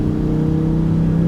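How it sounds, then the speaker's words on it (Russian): A Lamborghini Huracan EVO with its ten-cylinder engine sends out a loud, steady, close drone in one short, unbroken burst of sound. "10-цилиндровый мотор, голосистый до жути просто."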